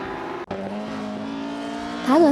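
Race cars in a video game, including a Matra MS7, whine past at close range in a steady high engine drone, with a brief dip and a rising squeal near the end.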